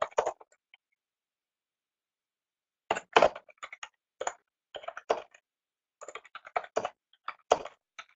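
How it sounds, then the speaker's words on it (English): Typing on a computer keyboard comes through as quiet, close bursts of crisp key clicks in irregular clusters, separated by a few seconds of silence. "let me just type one thing"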